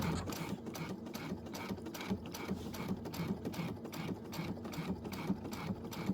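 A sewing machine steadily stitches through layered quilt fabric, a soft continuous rapid mechanical whir with a rhythmic needle pulse.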